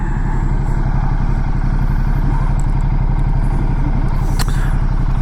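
A motorcycle engine runs close and loud at a steady, rapid chug as the rider sets off, with no talking.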